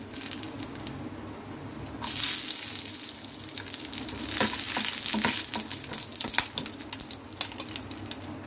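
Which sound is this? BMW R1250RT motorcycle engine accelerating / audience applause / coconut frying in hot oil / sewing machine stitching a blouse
coconut frying in hot oil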